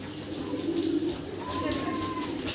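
Roman pigeons kept for sale cooing close by, soft low repeated coos that swell and fade over a couple of seconds against faint background noise.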